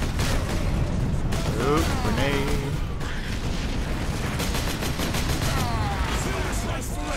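Gunfire in the Space Marine video game, dense bursts of rapid shots and mechanical clatter running almost without a break, loud and close, with a few brief spoken words over it.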